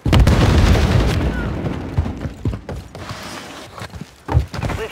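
A stun grenade detonates in Call of Duty Modern Warfare 3 multiplayer, a loud booming blast at the start that decays into rumbling, followed by scattered thuds and mechanical clatter.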